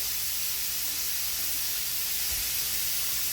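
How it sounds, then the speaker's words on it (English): Quarter cup of white wine and a tablespoon of butter sizzling in a hot pan for seared scallops, a loud steady hissing spatter held close for the whole stretch with no talking. "you're going to take a 1/4 cup of white wine in this pan"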